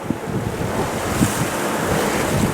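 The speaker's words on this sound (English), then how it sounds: "now we have these confused seas, short steep waves." Short, steep ocean waves in confused seas during a midnight storm, slapping and rushing close by a sailboat, mixed with strong wind buffeting the microphone, a continuous rough wash with no voices.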